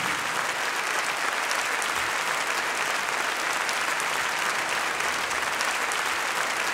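A concert audience at a live show in Yerevan applauds continuously, a dense, even wash of clapping from many hands that stays loud throughout.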